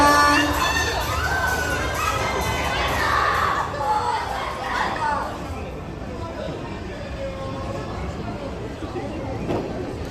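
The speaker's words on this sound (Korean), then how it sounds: "여러분들 너무 많이 응원해주시고 함성 외쳐주셔서" A large crowd at an anime voice-actor red carpet event, with many young voices, cheers loudly and shouts continuously, a dense roar that swells and eases slightly over the whole stretch.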